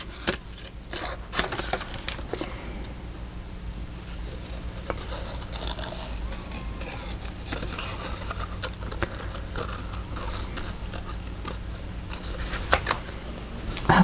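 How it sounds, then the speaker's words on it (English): Scissors snip paper during fussy cutting for a spring-themed craft journal, with a steady run of small close crisp clicks and rustles and no talking. "this is not the pair of scissors I want."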